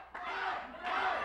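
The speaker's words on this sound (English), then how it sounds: "Here the crowd's yelling for me." Loud roar of a wrestling crowd yelling, a sustained mass of shouting voices that surges again toward the end.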